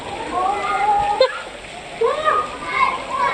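Splashing in shallow water: irregular, close splashes and sloshes run under lively voices, with a sharper splash about a third of the way in.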